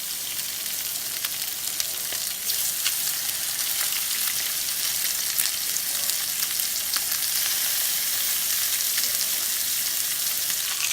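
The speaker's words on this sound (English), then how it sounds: "I mean it's ready to sear my fish up" Chilean sea bass sears in a hot oiled skillet, giving a steady, loud crackling sizzle with scattered pops that hold up close for the whole stretch without talk.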